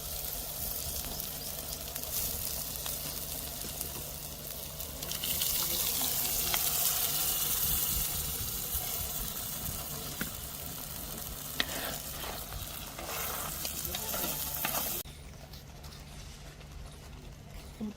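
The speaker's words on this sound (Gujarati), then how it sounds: "આપણો વઘારનો મસાલો પાકી ગયો છે. આપણે એમાં નાખી દઈશું દાળ." Dal poured into a hot spice tempering for dal tadka sets off a loud, steady sizzle and bubbling, swelling in intensity midway and then quieting toward the end, with occasional stirring sounds.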